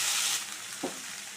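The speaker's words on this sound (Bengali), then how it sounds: "চিংড়ি মাছগুলো ভেজে নিই।" Prawns fry in hot oil in a kadai with a bright, steady sizzle, loudest at first and then settling, close up with no talking.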